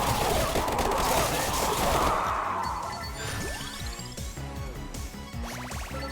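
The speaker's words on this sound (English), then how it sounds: "The guns can get kind of loud." Gunfire in a video game starts as a dense, loud burst of rapid shots and crashes, then thins into scattered impacts and electronic whooshing effects.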